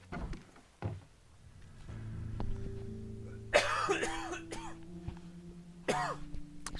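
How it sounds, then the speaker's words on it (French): Two sharp, harsh coughs a couple of seconds apart, close by, with a low steady hum and some faint background noise between them. "Excusez-moi, j'ai toussé fort."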